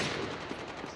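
Rapid automatic gunfire from a Rus-79u in a Kill Confirmed match of a shooter video game, a dense, continuous burst of shots filling the short moment.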